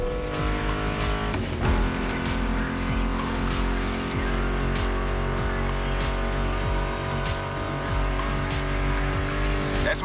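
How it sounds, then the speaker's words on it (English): Muscle car engines roar steadily in The Crew Motorfest, a continuous loud drone with a music track playing over it, plus a sharp burst near two seconds and brief tire noise. "Meshes well with the sound of the engines"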